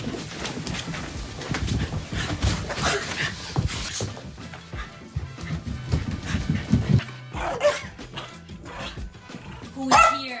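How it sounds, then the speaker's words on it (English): Several dogs bark outdoors in repeated bursts through the scene, with an excited voice calling out between them and more distant barks near the end. "do you hear all the other dogs outside?"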